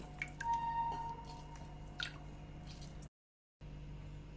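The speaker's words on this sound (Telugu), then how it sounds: "తర్వాత కోసి పెట్టుకున్న నిమ్మకాయ పిండుకోవాలి." A cut lemon is squeezed by hand over buttermilk being made, giving soft wet squishes and a few close drips, faint and brief, followed by a short silent break.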